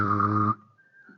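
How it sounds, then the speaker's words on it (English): A single clear human whistle holds one steady note for about half a second, then cuts off, followed by a faint spoken word. "But if ever you need my help, just whistle."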